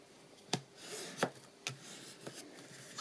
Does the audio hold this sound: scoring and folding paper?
yes